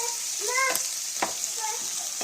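A mutton pepper curry masala sizzles steadily in a pan, with a spoon scraping now and then; faint tonal squeaks rise over the frying hiss.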